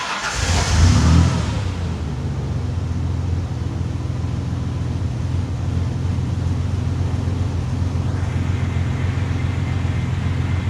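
A 1999 Ford Ranger engine cranks briefly and catches, then settles into a steady close idle that runs on evenly with no talk.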